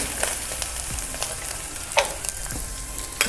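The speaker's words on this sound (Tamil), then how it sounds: "இந்த தேங்காயும் லைட்டாக வறுத்துட்டு அதில் போட்டால் இன்னும் கொஞ்சம் நல்ல வாசனையாக இருக்கும்." Coconut pieces fry in hot ghee with a close, steady crackling sizzle, broken by occasional sharper pops and no talking.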